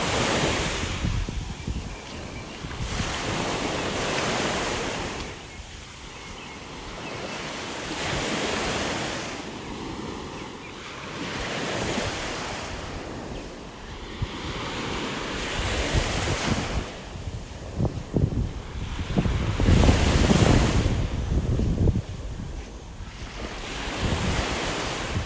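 Surf breaking on a beach in North Naples, Florida, with steady wind buffeting the microphone; waves roll in and wash out in repeated surges every few seconds, loud and close, with no voices.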